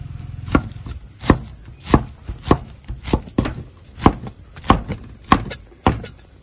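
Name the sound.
knife cutting and peeling pineapple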